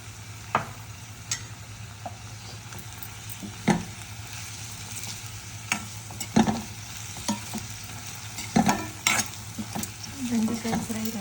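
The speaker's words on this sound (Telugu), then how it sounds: "సిమ్లో పెట్టి ఫ్రై చేసుకోవాలి" Sliced okra fries on a low flame with coconut chilli powder, a soft continuous sizzle punctuated by irregular scrapes and taps of a spoon stirring the pan.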